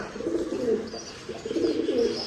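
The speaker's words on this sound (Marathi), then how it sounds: "एक नंबर कबूतर आहे" A pigeon coos close by, two soft, low throaty phrases in a row, alone with no other sounds.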